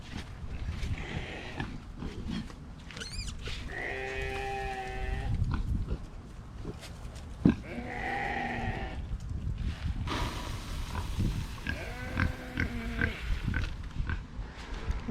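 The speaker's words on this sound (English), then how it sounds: "Now for the back, we just feed the pigs and the sheep again, same as in the morning." Pigs and sheep at evening feeding time on a small homestead, with repeated sheep bleats and grunting and squealing pigs over outdoor background noise, several calls close by and a sharp knock partway through.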